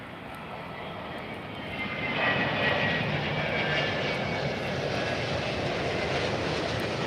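A fixed-wing airliner coming in to land at Lisbon airport, its engine roar steady and fairly loud, swelling slightly as it draws nearer and holding a broad, continuous rumble with no voices.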